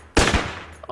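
Rifle fire in the Enter the Gungeon video game: one loud, close, sharp blast with a short burst and a decaying tail.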